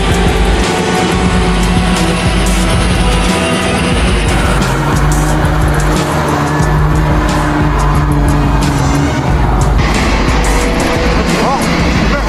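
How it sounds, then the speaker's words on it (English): A heavily loaded truck strains up a steep incline from a ferry to the shore, its engine roaring loudly and continuously, with grinding, squealing tyre noise and a harsh, dense rumble that shifts partway through. "The truck is struggling to move from the ferry to the shore."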